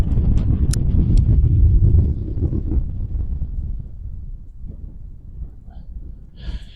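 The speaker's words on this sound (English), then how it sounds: "There is quite a cold wind blowing and strong wind as well" Strong, cold wind buffets the microphone at a harbour dock, roaring loudly at first and then easing into gusty rumbles, with a brief clatter near the end.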